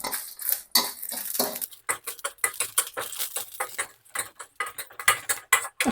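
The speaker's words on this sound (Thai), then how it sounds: "ต่อไปผมจะคั่วพริกครับ ใช้ไฟอ่อนเหมือนกันครับ คั่วในกระทะ" Dried chilies are dry-roasted in a wok over low heat, stirred with a utensil that makes rapid, irregular scraping and clattering strokes, close and fairly loud, with no talking.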